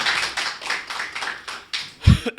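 An audience at a Hindi poetry gathering claps together in a steady, rhythmic beat of about seven quick claps, close and clear, ending with a louder dull thump.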